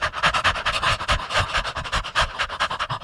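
A person imitates a big dog panting as a breathing warm-up, with rapid, steady, loud huffing breaths repeating throughout.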